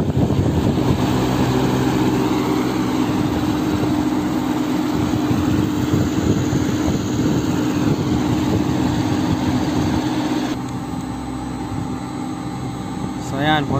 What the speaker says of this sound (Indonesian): I-on natin lahat yung fan motor niya